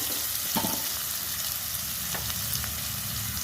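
Chopped small onions and green chillies frying in oil in a pan for an Andhra-style radish, okra and fish curry, giving a steady close sizzle with a few soft stirring scrapes.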